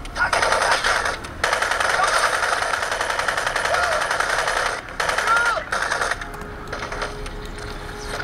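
Rapid automatic gunfire from the video game Crysis, played on an Asus 1215n netbook, sounds as dense sustained bursts with brief pauses between them, loud and close, over a steady background.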